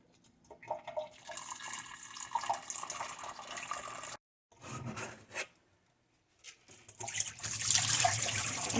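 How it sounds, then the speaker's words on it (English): Filtered water pours and splashes into a container of sprouting seeds, in uneven bursts broken by short pauses, then a louder rushing fill toward the end. "So again, with filtered water, we're just going to fill that up."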